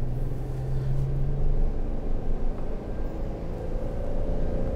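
A 2023 Airstream Rangeline motorhome picks up speed, a steady low engine and road rumble heard from inside the quiet coach, with a faint tone rising slowly in pitch as it accelerates.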